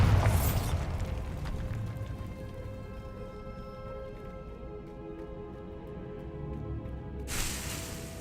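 A Bombarda blast spell from Hogwarts Legacy bursts loudly at the start, then its crackling, rumbling aftermath and magical debris patter fade under a tonal hum before a second burst at the end.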